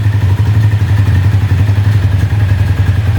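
A motorcycle engine idles at low speed during carburetor adjustment, a loud, close, steady rhythmic putter with even low thumping pulses and a faint clattering edge, with no voices.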